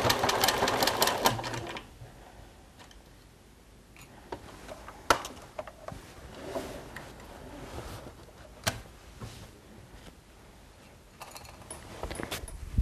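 Sewing machine stitching a fabric notebook folder cover, running in loud bursts of rapid mechanical ticking at the start, then shorter intermittent stitching runs and clicks with pauses.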